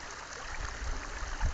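Water running steadily through a freshly dug drainage canal, a soft continuous rushing and trickling wash that stays fairly faint and even, with a few low rumbles near the end.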